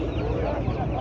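Chickens cluck and fuss at a busy poultry market in Kyzylorda, a dense, continuous chorus of nearby hens over crowd murmur.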